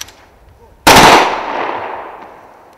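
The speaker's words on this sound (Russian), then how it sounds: "3 выстрела в воздух и минута молчания в память о наших земляках." A single sharp gunshot fired into the air at a memorial rally, loud and close, cracking suddenly and then trailing off in a long echoing decay.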